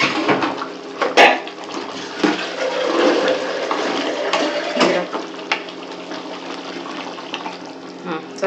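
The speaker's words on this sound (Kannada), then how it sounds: "ಸ್ವಲ್ಪ ನೀರು ಹಾಕು." Water is poured into a cooking pot in a home kitchen while chicken is being cooked, a splashing, gurgling pour with pot and utensil clatter close by.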